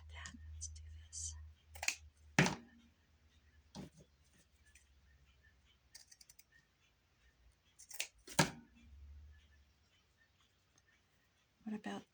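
Scissors snip through a paper doily at a crafting table, giving several short, crisp cuts spaced out over quiet moments with faint clicks and handling noise between them.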